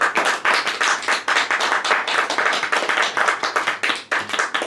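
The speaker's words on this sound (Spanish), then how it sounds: "Pueden darle un aplauso al Señor," A church congregation claps together in praise during a sermon, a dense steady burst of many hands that stays loud and close from start to finish, with no talking over it.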